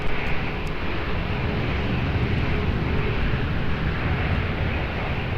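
A plane approaches runway 20 at Lisbon Airport, heard as a broad, steady low engine roar that stays loud and even throughout, with no distinct voices.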